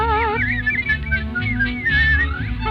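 Someone whistles a bright, wavering melody from Walt Disney's Snow White, accompanied by orchestral music, with lively rising and falling notes throughout.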